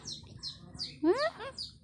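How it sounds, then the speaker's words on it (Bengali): A pet parrot gives short rising chirps and a louder squawking call, close and moderately loud, with quiet background noise between calls. "মিঠু পাখি তুমি দুষ্ট একটা পাখি উড়াল দিয়ে চলে গেছিলা কেন"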